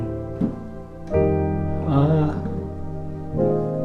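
A piano plays a series of 9sus4 chords one after another, each struck firmly and left to decay, with a moderately loud, full sound.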